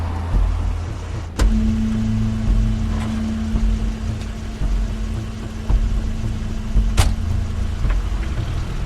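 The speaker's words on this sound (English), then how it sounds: "That's Crane's car." Car pulling up in The Wolf Among Us, a steady low engine rumble with a sustained hum, punctuated by a couple of sharp clunks like doors or braking, no talk.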